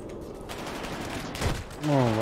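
Gunfire in the GTA RP video game during a purge-night firefight, a dense burst of rapid overlapping shots at moderate distance, with a brief tonal sound near the end.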